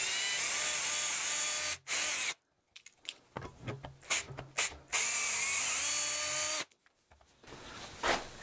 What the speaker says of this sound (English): And we'll drill the two top holes.